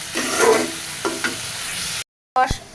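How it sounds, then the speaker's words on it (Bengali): Spices and onions lightly fry in a pan on a kitchen stove, with a loud steady sizzle and stirring scrapes, briefly cut by a moment of silence before the frying resumes. "এইটা হালকা ভাজা নিব"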